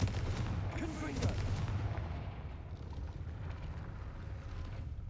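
The Confringo fire spell cast in Hogwarts Legacy, a burst of blasting, crackling energy up front that rumbles and fades into a lower ambient drone.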